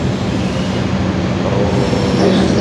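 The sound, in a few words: Argo Parahyangan train passing on rails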